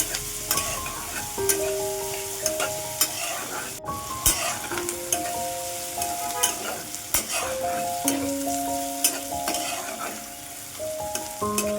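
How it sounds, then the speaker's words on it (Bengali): Onion and chilli fry in a pan until brown, giving a continuous close sizzle broken by frequent clinks and scrapes of a spoon stirring, with no voices. "পেঁয়াজটা আমি পেঁয়াজ মরিচটা ভালো করে ব্রাউন করে ভেজে নেব।"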